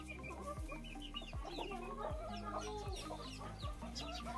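Domestic chickens at a home farm with goats, clucking and chattering in a steady busy flock close by, overlapping calls with a continuous low rumble underneath and no talk.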